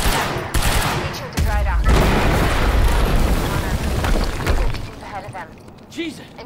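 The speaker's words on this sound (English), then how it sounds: "HQ, we just heard an explosion near the harvesting perimeter." An explosion in the video game Quantum Break goes off as a loud, sustained blast and rumble with crackling debris, followed by gunfire-like bursts. Characters speak over the noise as it fades.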